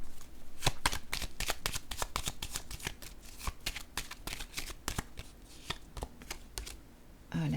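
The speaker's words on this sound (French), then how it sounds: "Je vais déposer une carte ici encore." Playing cards riffle and snap in a dense run of crisp, close clicks, with a card slapped down onto a table; no talking.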